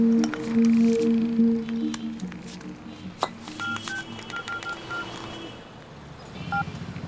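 A series of touch-tone dialing beeps, clear and close, with short pitched tones in quick succession over a soft background hum.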